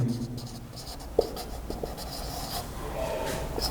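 Chalk or marker writing on a board during a maths lecture, heard as faint scratchy strokes and light taps, with a quiet background.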